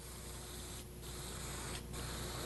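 Two short aerosol bursts of highlighter hiss onto a rag held over a stone memorial block, quiet and close against a steady background noise.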